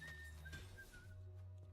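Drifter, a character in the video game Deadlock, whistles a few short, thin notes in a broken rhythm over a steady low in-game hum.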